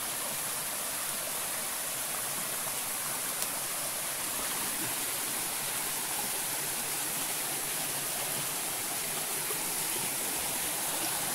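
Flowing stream water near an abandoned house, a steady broadband rush and gurgle, continuous and fairly close, with no voices.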